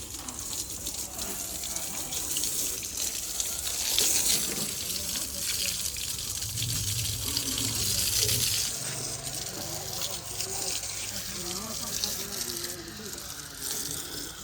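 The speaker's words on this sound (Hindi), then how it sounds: "आज ट्रैक्टर धोने के साथ साथ अपने पौधों को भी पानी लगा लें" Water runs steadily from a hose in rural Pakistan as a tractor is washed and plants are watered, a continuous close hiss and splash that swells in places.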